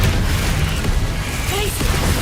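Confringo spell blasting in Hogwarts Legacy, a dense, loud low-end roar and boom filling the whole moment amid combat noise, with a voice shouting over it.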